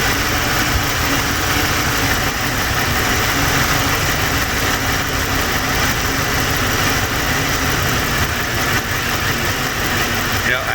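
A 2005 Ford Explorer Limited 4WD with a 4.6L engine runs on with its fuel pump removed, a steady, loud mechanical drone with rough, stumbling undertones and no break.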